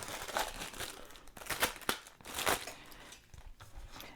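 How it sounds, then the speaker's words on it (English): Plastic wrapping crinkles and tears as sublimation coasters are unwrapped, producing bursts of close, quiet crackling in several separate handfuls. "So let's go ahead and get these all unwrapped."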